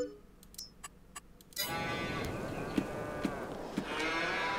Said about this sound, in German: Die ersten Kühe.